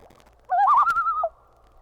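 A common loon gives a type 3 tremolo call, a single quavering, wavering cry lasting under a second, clear and moderately loud against a quiet background.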